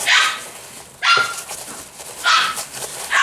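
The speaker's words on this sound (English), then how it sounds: "sorry about the dog." A dog barks in sharp, loud single barks, four bursts spaced about a second apart indoors, with no talking over them.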